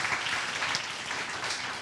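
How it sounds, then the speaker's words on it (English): An audience at a school event at Lourdes College gives a brief round of applause, a dense wash of clapping that is moderately loud and continuous, with a faint voice underneath. "Let's give a warm, you know, round of applause to Lourdes College,"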